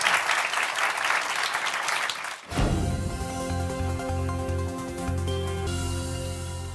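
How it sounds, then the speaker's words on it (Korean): An audience at a Korean economics lecture-concert claps for about two and a half seconds, a full, close round of applause that cuts off abruptly into music. "박수 한번 다시 부탁드리겠습니다"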